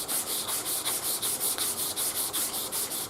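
Sandpaper rubbing back and forth over a spray-painted part clamped in a vise, a close, even scratching rasp repeating about four strokes a second.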